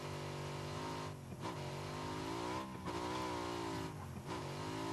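A motorcycle engine in PUBG (Battlegrounds) drones steadily with a rich harmonic hum, dipping briefly three times as if easing off and revving again, continuous and close.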